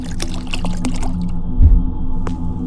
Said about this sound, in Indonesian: Kita siramin ya sampai dia bangun